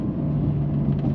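Porsche 911 992 Carrera GTS with a naturally aspirated-feeling flat-six and manual gearbox, a steady low engine drone heard from inside the car, even and continuous with no talk.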